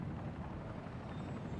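A steady, muffled rotor and engine roar from a helicopter in the video game Spider-Man: Miles Morales, a continuous low rumble heard alone for a brief moment.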